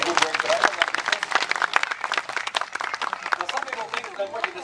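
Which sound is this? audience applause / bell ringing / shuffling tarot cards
audience applause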